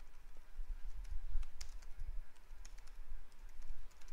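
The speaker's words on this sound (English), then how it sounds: "let us type the name of the scan" Typing on a computer keyboard while entering a scan name: light, irregular key clicks tapping quickly and faintly over a low hum, with no talking.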